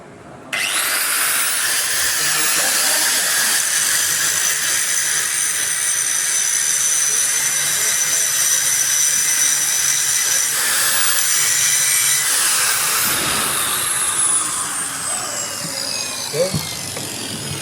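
A freshly cut workpiece is smoothed with a handheld tool, giving a loud, steady, grinding whir that runs unbroken for about twelve seconds and then winds down into a few softer scrapes and knocks.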